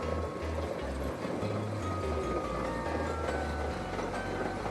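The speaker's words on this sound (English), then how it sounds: "It's a cool little train." A small amusement park train rumbles along steadily with a low clattering roll and faint mechanical noise, no voices standing out.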